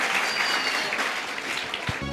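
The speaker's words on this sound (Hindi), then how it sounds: "एक बार जोरदार ताली इसके लिए, बहुत अच्छा गाना गाया।" Brief burst of steady applause for a young singer at a school event in Mathura, an even wash of clapping from a gathered crowd that cuts off abruptly at the end.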